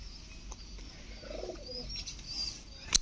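Low soft cooing of local desi pigeons in a pigeon house on a farm, fairly close, with faint chirps and a brief flutter or rustle near the end.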